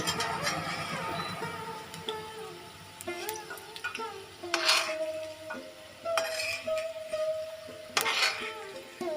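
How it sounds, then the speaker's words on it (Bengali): Cauliflower florets frying in a pan, with soft sizzling broken up by clinks and scrapes of stirring, fairly close and moderately quiet. "ভাজা হয়ে গিয়েছে কপিগুলো, এবার আমি একটু তুলে নেব"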